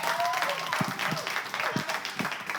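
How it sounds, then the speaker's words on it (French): Studio audience applauding at the start of the French TV game show Les Champions, steady clapping under a host's speech with a few louder individual claps standing out. "Allez, ils sont là, on les applaudit,"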